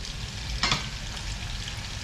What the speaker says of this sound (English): I just want a nice quick sear on them.